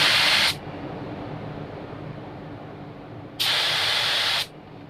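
A Porphis PRD715 airbrush sprays a test pattern in two bursts, a half-second one and then a longer one of about a second. Each is a sharp, bright hiss that starts and stops abruptly over a quieter steady background hiss, close up.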